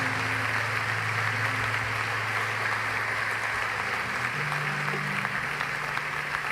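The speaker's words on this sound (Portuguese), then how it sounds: "Dê um aplauso a Ele." Church congregation applauding during a Portuguese-language sermon, a steady, dense wash of clapping that fills the room continuously with a low hum of voices underneath.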